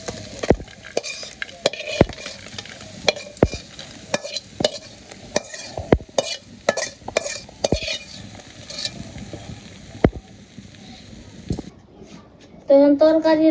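Bata fish fries in hot oil in a pan with a steady sizzle, broken by frequent sharp clacks and scrapes of a utensil. A voice and a brighter tone come in near the end.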